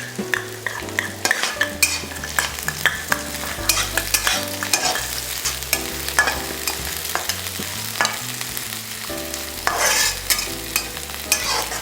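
Onions frying for egg Manchurian, a steady sizzle in a pan with a spoon repeatedly scraping and clinking as they are stirred, close and fairly loud with no talking.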